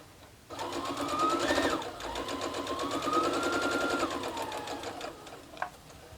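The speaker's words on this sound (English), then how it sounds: "we're just going to sew one of these onto each side of this green strip" A sewing machine runs steadily, stitching strips of a simply pieced quilt block together in one continuous close burst of several seconds with a rising and falling motor pitch, no talking.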